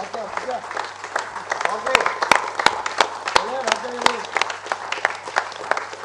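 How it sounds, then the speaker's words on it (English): An audience at a script conference gives a round of applause, a dense patter of clapping with a few sharp, loud claps standing out, while a voice talks over it. "One big round of applause."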